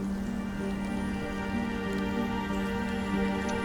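Steady rain patters continuously in the Nancy Drew: Midnight in Salem video game, a dense even hiss with a low ambient hum beneath it and no voices.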